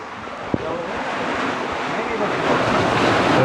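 Sea water surges into a rocky cave at Querim Beach, Goa, a rising, rushing roar that swells toward the end, mixed with wind buffeting the microphone and a voice over it.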